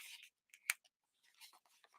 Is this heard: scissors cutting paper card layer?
yes